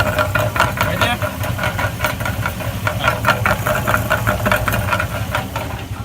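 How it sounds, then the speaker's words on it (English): A GMC/Chevy Sierra pickup engine with a failed catalytic converter idles with a steady rhythmic knock and tick, loud and close, while a person talks over it. "Catalytic converter went bad."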